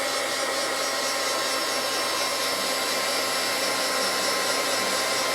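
A hair dryer blows steadily on a handmade craft dragon egg, a constant loud whirring rush of air that runs unbroken and close, with no voices.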